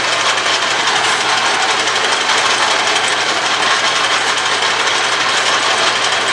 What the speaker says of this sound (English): The carriage is now moving as soon as the backlash is taken up.